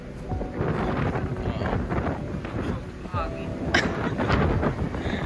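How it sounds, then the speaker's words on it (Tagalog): Strong northeast monsoon (amihan) wind buffets the microphone in heavy gusts, roaring over a low rumble, with people talking faintly underneath. "Oo, amihan ngayon kaya yung hangin medyo malakas."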